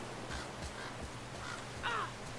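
A raven in God of War caws several times in a rough, moderately distant series, the last call sharper and louder.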